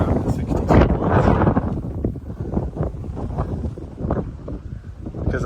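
Gusty wind in Iowa buffets the microphone outdoors in steady low rumbling bursts, with a voice talking faintly over it.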